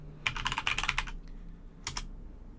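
A Linux account password typed on a computer keyboard: a rapid burst of crisp, close keystrokes, a pause, then a second short flurry of taps near the end, with no voices.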